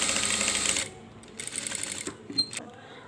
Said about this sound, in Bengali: তো আমরা এবার সেলাই করে নিচ্ছি।